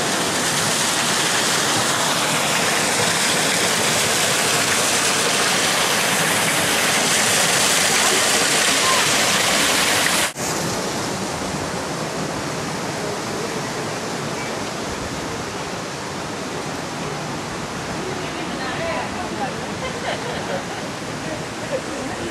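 Waterfall beside a bridge at Nanzoin Temple in Fukuoka, a loud continuous rushing roar that drops to a slightly softer steady wash partway through.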